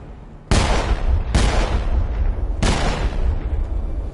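Three loud gunshots ring out in Mass Effect Legendary Edition, each a sharp, booming blast with a long ringing tail, spaced unevenly about a second apart, with no talking.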